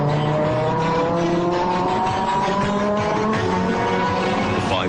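An Audi five-cylinder turbocharged Quattro race car makes a qualifying run on the Long Beach street circuit, its engine loud and close from onboard, revving up and down through the gears with brief tire squeal in the corners.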